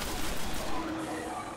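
Sniper rifle fire in the video game Destiny: dense, loud, continuous gunfire and blast noise that fills the short stretch throughout.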